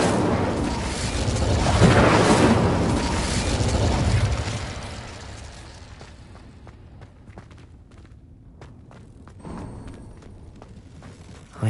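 An Incendio fire spell blasts in a Harry Potter video game, a loud roaring burst that swells for several seconds and then fades into quieter clicks and footstep-like taps.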